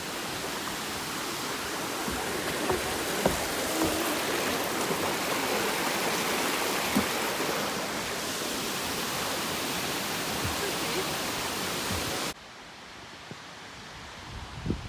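A river flowing beside a hiking trail at Pictured Rocks, a steady, dense rushing wash of water heard close and continuous for most of the stretch before dropping abruptly to quieter ambience near the end.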